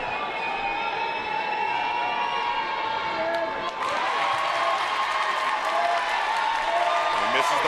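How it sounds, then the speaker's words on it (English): A high school basketball crowd cheers during free throws, a loud, continuous wash of shouting and applause that swells midway, with voices mixed into the din. "Coach Mohammed getting the crowd going."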